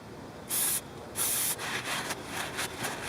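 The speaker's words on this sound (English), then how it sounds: "I'm going to be using some brake clean just to get this cleaned." Brake cleaner is sprayed into a control arm bushing hole in short bursts, two strong hissing blasts followed by several softer spurts, close and loud, with no talking.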